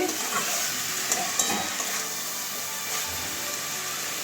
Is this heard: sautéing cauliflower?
yes